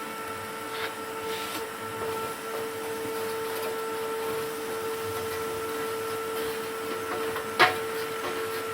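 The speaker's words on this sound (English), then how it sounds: "what I always do when I'm hoovering these out is I always put the nozzle down as far as possible down" A hoover vacuums out a wood burning stove with a steady, droning whine that runs unbroken throughout. A single brief knock sounds near the end.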